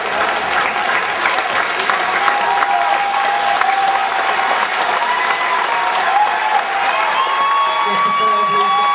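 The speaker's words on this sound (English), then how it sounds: "Just a player who gets a standing ovation for the club here" A crowd gives a standing ovation at the finish of a men's 5000 m track final, with loud, sustained applause and cheering throughout and a commentator speaking over it.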